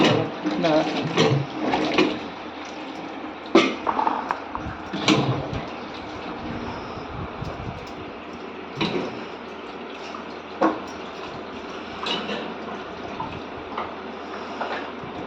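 Raw jackfruit pieces being washed clean with water in a village kitchen in Konkan, with irregular splashing and sloshing bursts over steady background noise.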